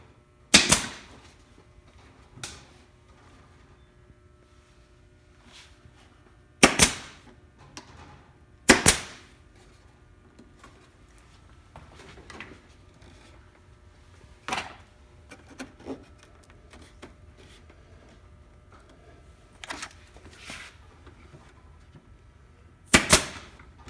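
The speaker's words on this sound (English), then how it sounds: "Okay, now we're using staples, this one and a series of staples and clamps." Sharp staple-gun shots drive staples into wooden boat planks during planking, about eight loud cracks spread irregularly with quieter handling noise between them and no talking.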